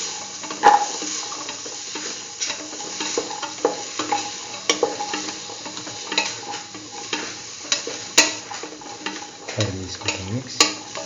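Hausa potato and soya chunk rice being stirred in a pot, a steady run of scraping spoon strokes with soft sizzling underneath and occasional sharper clinks against the pot, close and fairly loud.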